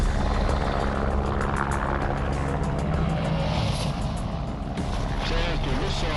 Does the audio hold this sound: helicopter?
yes